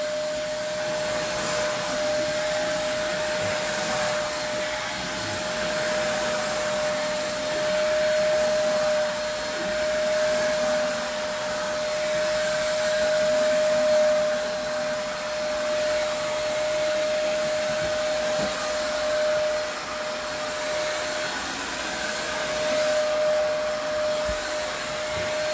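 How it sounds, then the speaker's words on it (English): A Eureka Easy Clean vacuum cleaner runs continuously on the back and underside of cushions, a steady motor whine with a sharp tonal hum and slight swells as the nozzle moves, with no talking. "Now we're just going to vacuum the back of the cushions or the bottom side"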